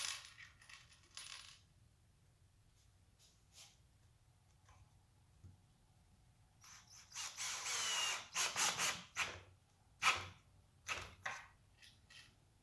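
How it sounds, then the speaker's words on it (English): A power drill drives screws to join two clamped workpieces: faint at first, then a cluster of short whirring, clicking bursts in quick succession near the end, close by. "Then I clamp it all down and I can screw them together."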